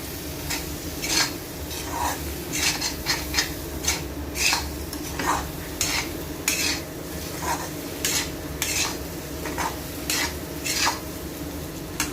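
Spices are stirred into fried pointed gourd and potatoes in a pan, a spatula scraping in repeated strokes against the metal at close range over a faint steady sizzle, with no talking.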